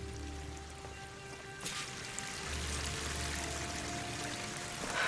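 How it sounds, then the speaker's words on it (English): Water pours and splashes steadily in Horizon Forbidden West, a continuous rushing stream that grows fuller and louder after a sharp swell partway through. "That water must be coming from somewhere."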